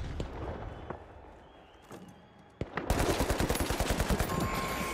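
Gunfire erupts in the video game The Finals: after a quiet stretch with a few isolated shots, a rapid burst of automatic fire runs steadily to the end.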